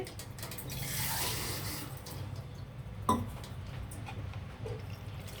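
Water poured into a pot of goat trotter pieces for mutton paya, a soft liquid splashing and filling sound that swells then fades, with a single clank of the vessel partway through; no talking.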